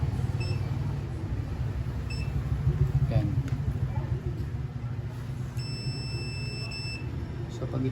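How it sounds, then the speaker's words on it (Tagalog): Continuity-tester buzzer on an electric fan under repair, giving short high beeps early on and a steadier tone near the end, over a loud low hum and someone talking. "Check natin sa buzzer."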